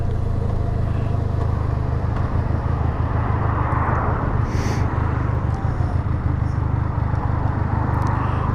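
A 2023 Benelli 502TRK adventure motorcycle pulling away in fourth gear, its engine a loud, steady, unbroken drone mixed with wind rush throughout.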